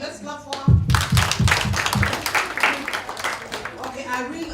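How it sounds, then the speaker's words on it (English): An audience at a metabolomics workshop closing ceremony claps, starting with a few slow, loud, rhythmic claps that swell into close, dense applause, with voices talking over it. "Let's clap for her."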